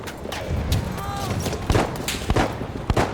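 Several sharp, loud sniper rifle shots in a Battlefield 1 match crack out in quick succession, set against continuous battlefield noise with distant gunfire and explosions and a faint talking voice.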